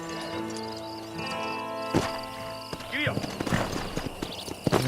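Horse hooves clip-clop in Red Dead Redemption, a few hoof strikes rising over steady game background music and ambience, moderately loud and close.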